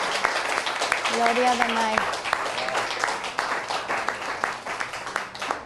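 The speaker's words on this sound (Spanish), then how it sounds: "Demos un buen aplauso" An audience claps through a steady round of applause at a gathering, mixed with a voice speaking and a brief sung phrase over the clapping.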